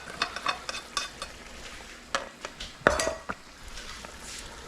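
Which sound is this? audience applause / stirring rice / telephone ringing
stirring rice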